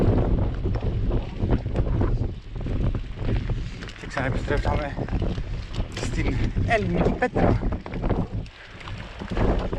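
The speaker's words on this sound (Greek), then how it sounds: "ο αέρας προφανώς χειροτερεύει όσο ανεβαίνουμε πιο ψηλά και πιο εκτεθειμένα" Strong, gusty wind on an exposed mountain slope roars and buffets the microphone continuously while someone speaks in Greek over the rumbling noise.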